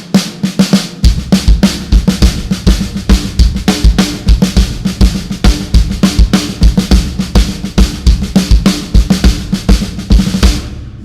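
Second line drum pattern played reversed on a drum kit, a steady, driving stream of snare and bass drum hits with accented and unaccented strokes, loud and close throughout, no voices.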